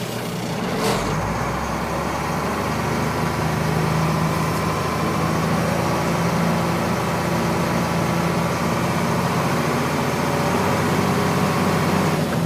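A truck engine idles steadily to build air brake pressure, a loud, close, even diesel rumble that holds unchanged throughout.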